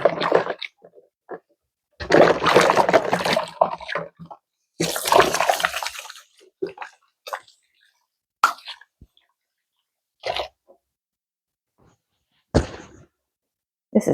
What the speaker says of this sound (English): I'm going to just rinse my hands off quickly here.